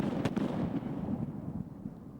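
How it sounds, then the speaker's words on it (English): A popcorn pyrotechnic effect, tested for a rock concert, goes off as a rapid dense burst of crackling pops and small bangs, loud and close, then fades into a rumbling tail. "The next effect we're testing tonight is a thing called popcorn."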